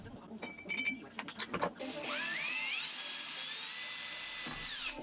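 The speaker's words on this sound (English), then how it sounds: "I drilled a hole in it with a countersink bit" A countersink bit bores into aluminium angle with a loud, rising drill whine that holds steady for about three seconds, after a few sharp clanks and handling knocks.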